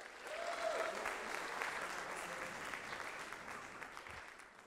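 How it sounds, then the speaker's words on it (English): A conference audience at an audio-mixing event applauds a presenter, producing an even wash of many hands clapping that swells early and holds steady, heard somewhat distant and soft with no voices over it. "So big round of applause for Mr."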